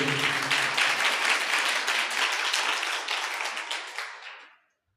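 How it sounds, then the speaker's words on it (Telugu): A church congregation breaks into loud, sustained applause, many hands clapping together near and dense, then the clapping fades and stops abruptly. "చప్పట్లు కొట్టండి అందరు గట్టిగా"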